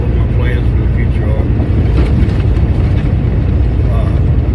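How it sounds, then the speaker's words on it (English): A truck engine fitted with a Pittsburgh Power fuel-borne catalyst runs at a steady idle. It gives a constant low rumble that stays loud and close for the whole stretch, and no one speaks over it. "Truck seems to be running pretty good."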